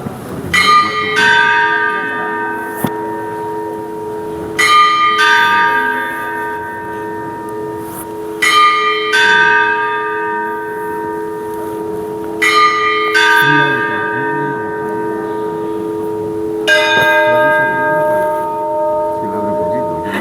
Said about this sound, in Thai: ในเวลาบ่ายโมงนะคะ เดี๋ยวเขาอาจจะต้องตีระฆังหนึ่งครั้งนะคะ